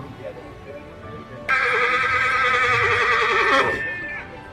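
A horse at a horse riding show competition in Anthiyur gives one loud, close whinny lasting about two seconds, rising and wavering before it trails off over a low background murmur.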